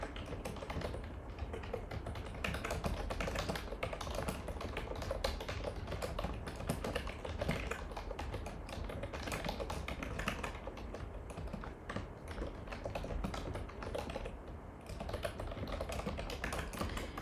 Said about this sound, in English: Let me type this one out.